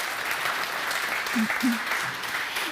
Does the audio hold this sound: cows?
no